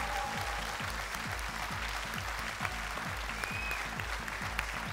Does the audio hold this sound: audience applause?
yes